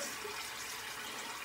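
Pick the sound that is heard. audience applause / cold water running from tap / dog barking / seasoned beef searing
cold water running from tap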